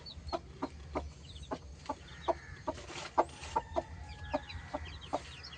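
A village hen with newly hatched chicks clucks in a steady, close rhythm of short clucks, with faint high chick peeps mixed in over a low background hum.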